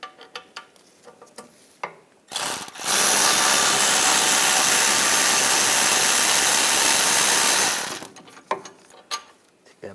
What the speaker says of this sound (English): We're going to take off the caliper bolts, use a triple square socket.